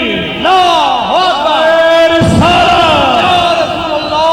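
A large crowd at a religious poetry majlis in Multan roars a loud chanted slogan in unison, voices swelling and overlapping in a sustained, close, powerful shout.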